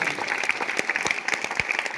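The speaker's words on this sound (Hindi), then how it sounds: "जोरदार तालियां आप इस प्रोग्राम के लिए" A crowd at a gathering on national unity and drug-free living claps in a brief, even patter of applause that sounds somewhat distant and moderate in volume.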